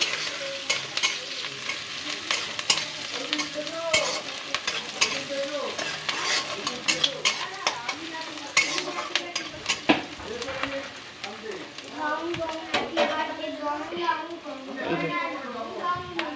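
Chopped onions fry in a pan with a continuous sizzle and frequent spatula scrapes and clinks. A voice talks over the cooking for much of the time.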